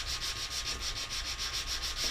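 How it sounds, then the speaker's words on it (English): A sanding block scrubbing back and forth across Yupo paper coated with alcohol ink, in quick, even strokes, close up and rhythmic, with no talking. "we're trying a sanding block on here now."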